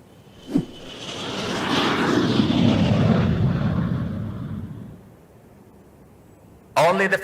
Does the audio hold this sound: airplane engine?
yes